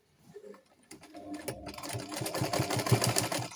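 A sewing machine stitches fabric for a flounce sleeve, starting after a brief pause with a few short bursts, then running in a steady, close, moderately loud rapid rhythm.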